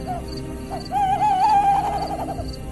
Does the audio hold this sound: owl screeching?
yes